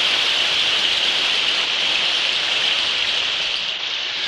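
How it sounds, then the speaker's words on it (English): Heavy rain pours steadily as a sound effect on a ghost story record, a dense, loud, unbroken hiss of downpour with no voices. "The rain was coming down like it was trying to wash us away"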